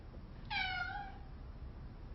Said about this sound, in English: And then my cat was meowing,